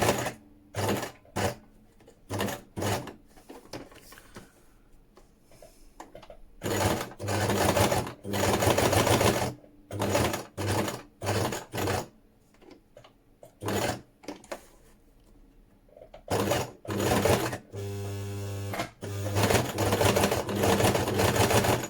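A domestic sewing machine stitching in short bursts and longer runs, stopping and starting repeatedly, including a brief reverse stitch, close and clear with no talk.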